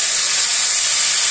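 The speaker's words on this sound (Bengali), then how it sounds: "কড়াই ডাইট হয়ে গেছে, এখন আমি এটার মধ্যে ডাটা আর আলু আছে দিয়ে দিলাম" Steady loud sizzling hiss as vegetable stalks and potatoes hit a hot wok with cumin in a village kitchen, continuous and close.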